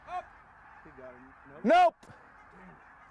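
A goose honks repeatedly in the open, first as fainter calls and then as one loud, close honk, while someone briefly speaks over the scene.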